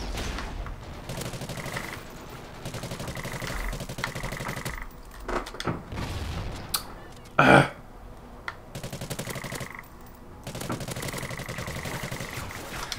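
Gunfire from a multiplayer match in the video game Call of Duty Ghosts, with repeated bursts of shots over game music and effects and one loud blast near the middle.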